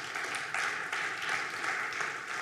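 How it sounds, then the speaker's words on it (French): Audience applause at the closing session of a national conference, a steady dense wash of many hands clapping that holds evenly throughout, moderately distant in a large hall. "vous pouvez les applaudir, évidemment"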